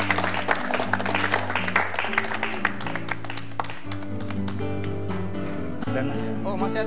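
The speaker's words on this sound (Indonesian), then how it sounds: "Iya, tepuk tangan." A studio audience at the Kick Andy talk show claps, the dense patter strongest early on, while steady music plays underneath throughout.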